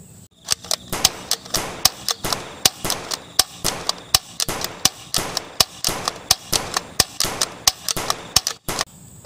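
Blue toy blaster gun firing a rapid string of sharp, close snapping shots, around two dozen clicks in quick irregular bursts with no voices.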